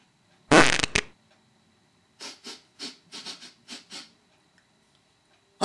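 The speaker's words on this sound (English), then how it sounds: "I must have farted." A loud, close fart lasts about half a second, followed after a pause by a run of six or seven short, fainter puffs and squeaks in an irregular rhythm, with no talk.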